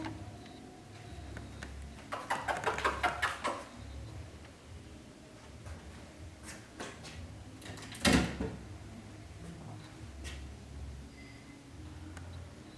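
A door pushed open by a cat clatters with a rattling burst, followed a few seconds later by a sharp knock, against a quiet indoor background in an old former convent at night.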